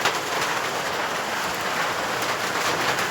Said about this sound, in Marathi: पावसाचा आवाज येत असेल गाईज